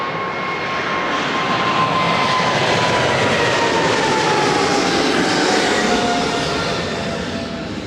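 A loud, steady airplane engine roar at Toronto Pearson airport fills the whole stretch, a broad rushing drone with a faint whine gliding slowly downward.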